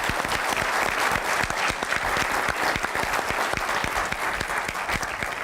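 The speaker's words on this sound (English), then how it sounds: "let's give them a round of applause." Sustained audience applause at a Golden Palm 2025 recognition event, dense steady clapping from a large crowd that stays loud and even throughout.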